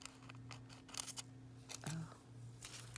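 Scissors trim a butterfly-patterned nail foil in a few short, close snips, small crisp cuts heard over a quiet room hum.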